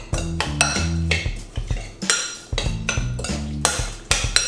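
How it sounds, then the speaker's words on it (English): Chopped ahi poke stirred in a bowl with a utensil: a run of clinks, taps and scrapes against the bowl in uneven bursts, close up and fairly loud, with no talking. "Now let's go ahead and stir it up."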